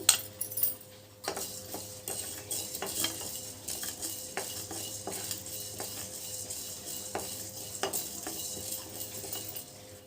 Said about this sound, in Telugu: ఇప్పుడు ఎండుమిర్చి ధనియాలు జీలకర్ర వేయించుకుందామండి చూడండి పెనం కాలింది ధనియాలు జీలకర్ర వేయించుకుందాము